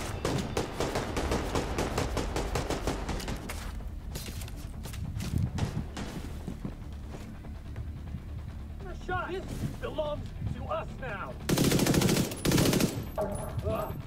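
Rapid automatic gunfire in the video game The Division 2 rattles in dense bursts, loud and sustained, with pauses and a later heavy volley, while someone talks and game sounds mix in.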